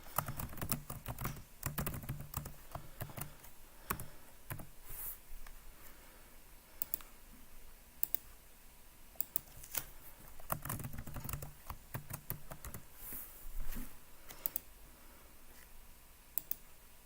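Fast, uneven clicking from typing on a computer keyboard runs steadily in irregular bursts with short pauses, close but soft, with no talk.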